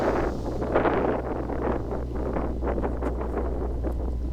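Wind buffets a microphone outdoors on a disc golf course, a steady low rumble with rustling gusts that continues throughout without any talk.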